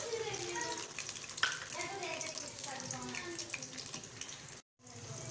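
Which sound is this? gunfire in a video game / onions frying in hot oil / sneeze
onions frying in hot oil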